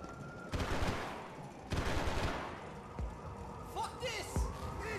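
Sniper gunfire in the video game Max Payne 3, sharp loud cracks in quick bursts amid shouting voices and combat noise, with a few distinct shots standing out near the end.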